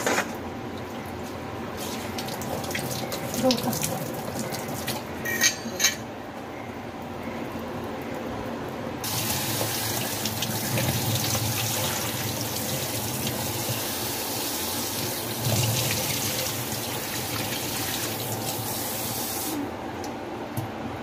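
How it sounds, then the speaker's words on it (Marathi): Eel fish (vam) being washed under a running kitchen tap: a steady rush of water throughout, swelling into a louder, hissing spray for a long stretch in the middle before easing back. "मी आता ही सगळी वाम स्वच्छ धुवून घेते"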